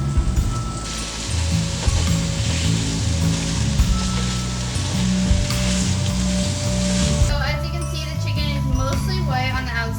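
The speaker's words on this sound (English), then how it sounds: "just stirring the chicken so it doesn't burn to the pot or anything" Chicken sizzles steadily in a pot while being stirred, a continuous crackling hiss with scraping from the spoon, ending in rougher, busier frying noise.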